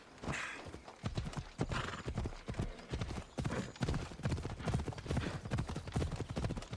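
A horse gallops in the Assassin's Creed Odyssey video game, rapid rhythmic hoofbeats pounding steadily and close throughout, with a whinny near the start.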